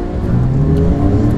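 Naturally aspirated 3.8-litre flat-six of a 2010 Porsche 911 Carrera S, a loud, close, steady engine roar with a low droning tone sustained through a brief burst.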